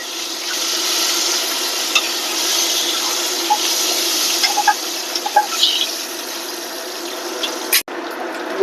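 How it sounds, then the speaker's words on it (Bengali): Eggs fry in mustard oil in a pan, giving a steady loud sizzle throughout with occasional small pops and crackles, ending with a brief clatter. "এই তেলে ডিমটাও ভেজে নেব"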